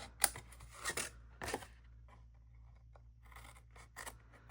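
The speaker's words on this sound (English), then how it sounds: "And we'll just trim off the excess." Scissors snip away excess card or paper around a stitched die-cut piece for faux applique, a few quiet crisp cuts spaced apart, close and alone with low background hum.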